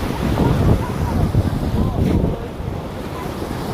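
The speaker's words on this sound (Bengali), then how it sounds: "ঢেউ দেখো" Sea waves wash in steadily at Digha Mohona beach, mixed with strong wind buffeting the microphone, a continuous rushing roar without distinct breaks.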